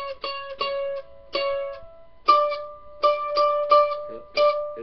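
Mandolin double stops played with the left-hand pressure eased off, giving a series of short plucked pairs of notes that die away quickly instead of ringing, in uneven bursts with brief gaps between them.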